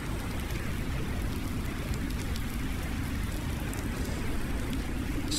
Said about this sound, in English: But hopefully this rain will stop soon.